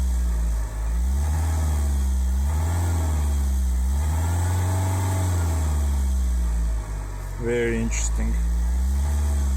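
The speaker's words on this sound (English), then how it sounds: "I'm gonna start releasing the hydrogen. Let's see what happens. Yeah, the RPM starts to go up." A Ford Fusion 1.4 TDCi diesel engine runs steadily, its hum rising and falling gently as revs climb with hydrogen fed in; a brief voice comments near the end.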